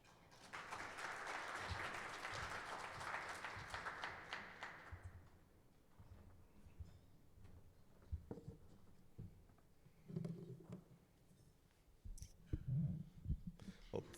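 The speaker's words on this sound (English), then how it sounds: "So please let's give everybody a warm round of applause" Conference audience applauding Dr. Bateman at a maternal care session, a steady dense patter of clapping for about five seconds that fades into scattered taps, shuffles and room noise.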